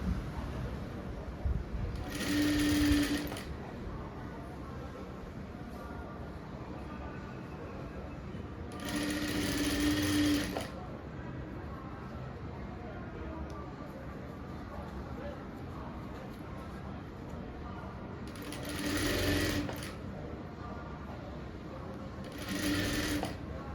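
A sewing machine stitches the back piece of a cotton blouse in four separate bursts of rapid whirring, each a few seconds long, with quiet pauses of room tone between them.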